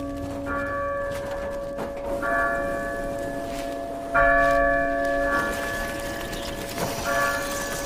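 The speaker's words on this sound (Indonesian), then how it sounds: "Suara lonceng ini berasal dari gereja yang dinyalakan biarawati" A church bell rung by a nun sounds in a few ringing strikes with long humming decay, close and fairly loud over a low background rumble.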